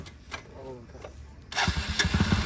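A motorcycle engine cranks and catches halfway through, then runs with a low rumble close by, after some faint background noise.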